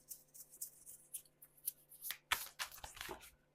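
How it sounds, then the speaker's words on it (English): Tarot cards are shuffled by hand in short, quiet riffling and sliding bursts, several quick rustles in irregular rhythm, close and soft, with no talking. "Let me shuffle these a little bit more because these are the same cards that just came out."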